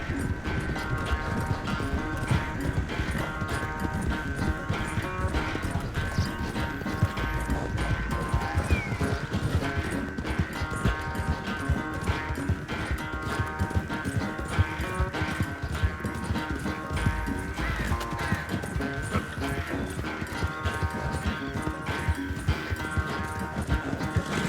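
Galloping horse hooves pound in a fast, steady rhythm through a horse race, loud and continuous under dense music and background clatter, with brief voices.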